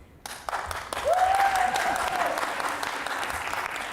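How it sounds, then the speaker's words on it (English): Applause from an audience at a food-waste panel event starts abruptly after a brief quiet moment and carries on steadily, with a voice talking over the clapping partway through. "let's hold our applause till the end"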